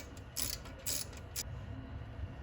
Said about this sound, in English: let's use the same 3/8-inch ratchet